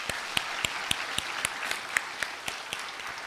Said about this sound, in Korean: 하나님께 우리 한번 영광의 박수를 올려드립니다